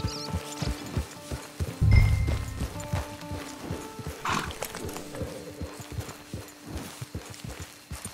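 A horse's hooves clip-clop at a walking pace in Red Dead Redemption 2, with a short snort or whinny, moderately loud and steady, with almost no talk.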